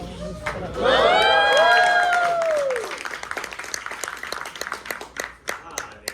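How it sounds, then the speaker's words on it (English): A theatre audience at a stage show claps and cheers loudly for a few seconds, with whoops rising above the applause. The clapping then thins into scattered, fading claps. "clap whenever I say anything."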